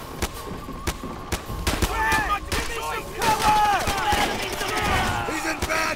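Gunfire in the video game Call of Duty: World at War: rapid bursts and scattered single shots crackle in dense volleys, loud and continuous, with voices shouting commands over the shooting.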